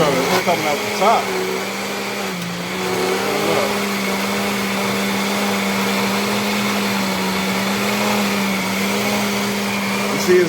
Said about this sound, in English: So now we got it in the blender.